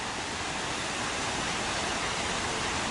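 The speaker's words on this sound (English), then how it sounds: "The water falls from that end to that end." Waterfall at Kasama, Zambia, a loud unbroken roar of falling water, dense and steady from start to finish with no talk.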